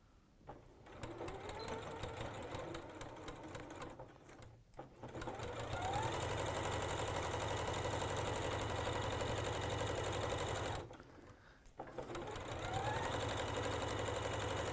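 A sewing machine stitching a 1 cm seam on a tweed bag, whirring in long steady runs with two brief pauses, close and fairly quiet, with no talking.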